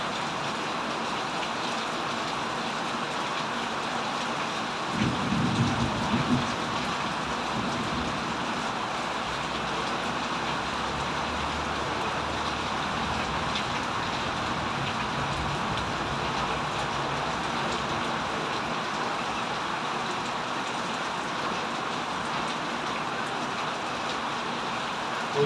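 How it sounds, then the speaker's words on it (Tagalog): Heavy rain pours steadily on a flooded street with a clogged drain. The hiss is dense and constant, broken by a brief louder splash early on. "Yan, medyo mahina na yung ulan."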